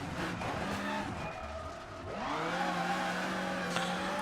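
In Richard Burns Rally, a rally car slides on gravel with a loud, revving engine that dips and then climbs again, its tires scrabbling and hissing over loose stones throughout.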